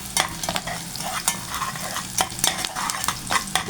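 Steady oil sizzle from frying zucchini, with repeated scraping clicks of a utensil stirring through the pan, close and continuous.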